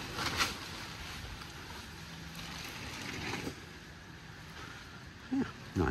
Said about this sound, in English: The wind's picking up, blowing the tarp about, and blowing dust about.